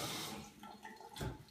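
Water from a kitchen sink faucet in a wheelchair-accessible home, heard briefly and faintly as a soft splashing trickle with a small splash burst near the end.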